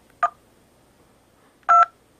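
Two phone dialer keypad touch tones in DTMF style, a short beep followed by a slightly longer one after a pause, fairly loud and clear against a quiet background.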